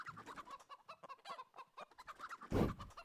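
Chickens cluck in Counter-Strike on the Inferno map during a DreamHack Masters match, a quick run of close, busy clucks with a louder burst near the end and no talk.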